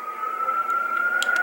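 Police sirens wailing at an Ohio crime scene, a steady high continuous tone, moderately loud and somewhat distant, with a few faint clicks over it.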